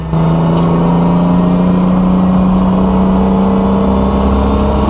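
A Barra-swapped Ford EL Falcon runs flat out through a turn during a time attack track session. Its engine gives a loud, close, sustained drone at a steady high pitch with no lift for the whole stretch.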